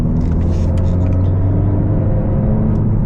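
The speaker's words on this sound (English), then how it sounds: "This motor just has just enough torque to enjoy third gear on this canyon here." A 2020 Honda Civic Si engine pulling hard in third gear up a canyon road, a loud, steady droning rumble with a constant engine tone heard from inside the cabin throughout.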